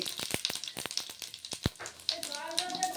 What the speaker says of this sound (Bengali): হাফ স্পুন জিরে ফোড়নের জন্য দিলাম গোটা জিরে